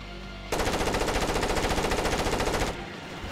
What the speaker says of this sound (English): Don't shoot Doyle